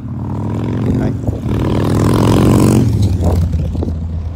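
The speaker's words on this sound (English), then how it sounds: "One thing's for certain, the motorcycles are out." Motorcycles roar past, rising to a loud peak and fading slightly, with steady low engine rumble throughout, on a windy day.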